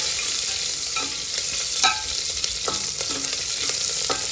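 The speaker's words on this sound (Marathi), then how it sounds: "कांदा आपण छान परतून घ्यायचा" Chopped onions sauté in hot oil in a pan, a steady close sizzle broken by several scraping strokes of a spoon stirring them.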